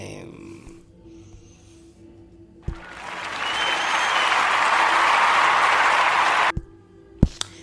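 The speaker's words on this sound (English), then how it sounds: "All that applause for Marvel" Crowd applause greets a Marvel movie announcement: after a quiet start, a full swell of clapping rises, holds steady for several seconds, then cuts off abruptly, followed by a couple of sharp clicks.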